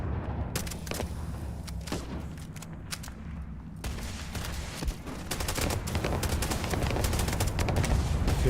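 Rapid gunfire from a weapon in the space game Starfield crackles in dense, steady bursts at mid distance over constant background rumble, with no speech.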